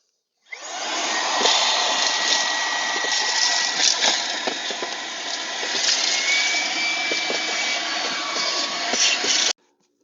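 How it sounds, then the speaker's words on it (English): Shop vacuum sucking up wood residue from a rotted door frame, a loud continuous whooshing motor drone that starts abruptly and cuts off near the end, with rattling debris. "I vacuum up the residue."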